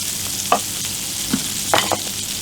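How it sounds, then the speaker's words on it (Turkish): Butter sizzling on a hot griddle, a steady loud hiss with a few scraping and tapping utensil sounds scattered through it, close up and without talking. "Yağımızı döküyoruz. Tereyağı evet."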